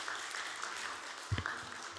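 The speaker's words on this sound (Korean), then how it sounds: "우리 박수해 주시기를 원합니다." Soft, distant clapping from a church congregation follows an infant's baptism during a Sunday service at a Houston church, with a few faint voices mixed in.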